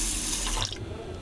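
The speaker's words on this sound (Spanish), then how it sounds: "tenemos que lavarlo varias veces hasta que el agua salga completamente transparente" Sushi rice is rinsed under running tap water in a kitchen, a close, steady splash and gush of water into a bowl or sink with no speech.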